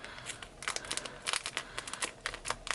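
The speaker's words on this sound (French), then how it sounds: "il faudrait déjà que j'arrive à le couper avec ces ciseaux" Scissors snip and crinkle through the plastic wrapping of an old One Piece book, giving a run of sharp, close crackling cuts and rustles with no voices.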